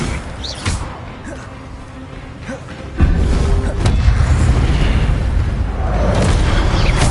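Spellcasting in Hogwarts Legacy: a sharp magical burst lands, then a loud, sustained rumbling roar of game effects carries on with scattered crackles.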